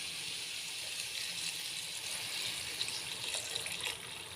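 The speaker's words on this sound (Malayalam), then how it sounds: "ഞാനിപ്പോൾ ഒരു ഗ്ലാസ് വെള്ളം ഒഴിച്ചിട്ടുണ്ട്" A glass of water is poured into a cooking pan holding a prawn and drumstick theeyal mixture, giving a steady, continuous watery rush and splash at moderate level.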